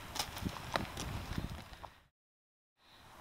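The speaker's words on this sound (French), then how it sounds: "Alors me voici à cheval." A horse being ridden at a walk through a paddock-style track gives crisp, close hoof clip-clops in a regular rhythm, stopping for a moment of silence before the sound resumes.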